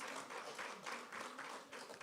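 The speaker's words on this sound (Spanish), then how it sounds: "Le da un aplauso a los diáconos" A church congregation applauds its deacons during a Sunday service, a dense, steady wash of many hands clapping that swells and dips slightly across the whole stretch, fairly soft and roomy with no voices on top.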